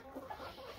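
A young olive egger chicken clucks softly a couple of times, brief faint clucks with quiet background.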